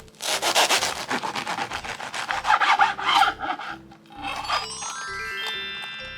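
A knife saws through a toasted hot sandwich fresh from a hot sandwich maker, giving rapid rhythmic crunchy rasps up close, followed by a faint lingering ringing tone.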